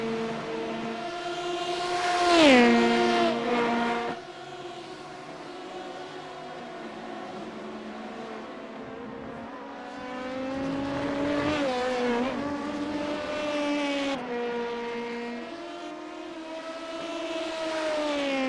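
Race cars in a sports-car racing game pack through the infield at Road Atlanta, engines revving up and down in pitch as the pack passes, loud and continuous with shifting whines.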